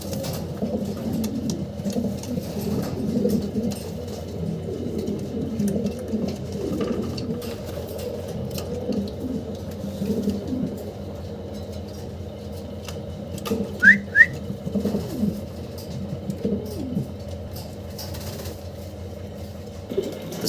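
Fancy pigeons coo in a steady, low, throaty murmur that runs throughout, with a brief high chirp partway through and no talking.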